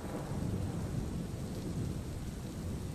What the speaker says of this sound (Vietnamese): Liền sau đó là tiếng sấm rền trời và một cơn mưa ầm ầm như trút nước